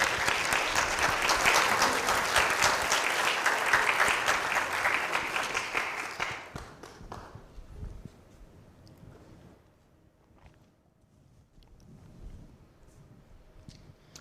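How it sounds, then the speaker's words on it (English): A convocation audience gives a loud, dense round of applause for about six seconds, then it fades quickly to scattered claps and quiet room noise. "Please give yourself a big round of applause for this achievement."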